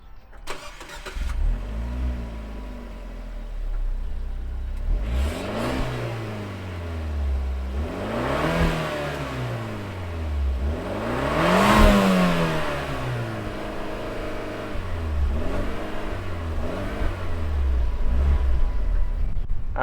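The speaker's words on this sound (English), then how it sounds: "let's fire up this 124 Spider and see what it sounds like." A turbocharged Fiat 124 Spider engine cranks and fires, then settles into a mid-pitched idle with several rising and falling revs, heard loud and close with no voices for about twenty seconds.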